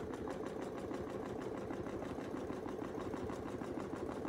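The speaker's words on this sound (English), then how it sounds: "I'm going to double stitch right here and I'll show you why." A sewing machine runs steadily at an even fast rhythm while double stitching a quilted feather, its needle pulsing close and continuous throughout, with no talk.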